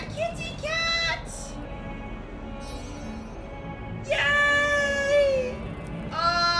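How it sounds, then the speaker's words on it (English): A cat in the Hogwarts Legacy video game meows several times, with a few short calls followed by a longer, drawn-out meow, clear and close over a quiet background. "Ah, a kitty cat!"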